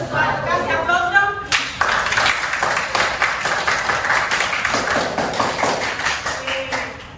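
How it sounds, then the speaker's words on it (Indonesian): A classroom group applauds together, a dense burst of clapping that starts after a brief lead-in and holds steady for several seconds at close range. "Kasih aplaus dong"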